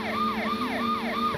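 Police sirens wail in the driving video game Driver 2, a loud, regular rising-and-falling electronic tone repeating about every third of a second over a steady engine hum.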